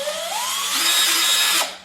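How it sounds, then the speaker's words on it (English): Black+Decker 20V MAX lithium-ion cordless drill running on its drilling setting, a loud close whine that rises in pitch as it spins up, holds steady, then cuts off abruptly. "I was obviously on the drilling setting"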